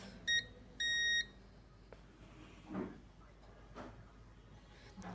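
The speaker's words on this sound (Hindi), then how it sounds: "इस तरह से एक साइड पे बीप आती है कैपेसिटर के" Two short, high electronic beeps from a multimeter's continuity test on a capacitor in a mobile phone circuit, the second beep longer, followed by faint handling clicks in a quiet room.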